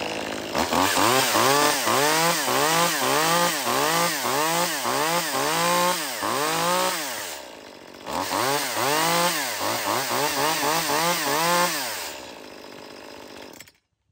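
A small ECHO CS-2511T micro top-handle gas chainsaw is revved repeatedly, its loud, raspy two-stroke engine rising and falling in quick bursts, pausing briefly midway, then revving on before cutting off at the end.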